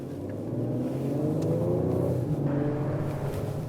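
A 2020 Ford Explorer ST driving around a traffic circle on an empty rural road, its engine a steady, fairly loud rumbling drone heard from inside the cabin, rising slightly in effort mid-way, without talk.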